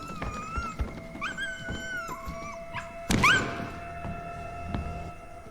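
A dog whimpering and whining in a tense scene from the film John Wick, with thin high wails rising and falling, then a sudden heavy thud, with faint thumps and room noise beneath.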